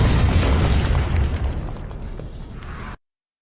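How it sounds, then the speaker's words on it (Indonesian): A bomb blast in a zombie apocalypse film: a loud, broadband boom that rolls on as a heavy rumble for about three seconds before cutting off abruptly. "Tapi tiba-tiba ada bom."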